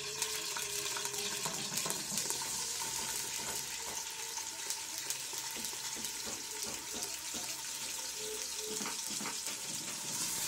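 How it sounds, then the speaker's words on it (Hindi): Sliced onion drops into hot mustard oil and sizzles in a steady, dense crackle that stays even and close throughout, with faint stirring clicks underneath. "अब हम इसमें एक अदद प्याज ऐड कर देंगे।"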